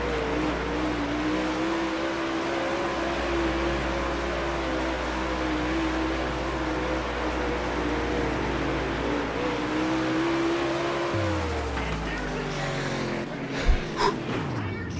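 A dirt track race car engine in World of Outlaws: Dirt Racing on PS5 drones steadily at high revs while the car slides, its pitch dipping near the end. Brief clunks and a sharp knock follow, and a voice is faintly present.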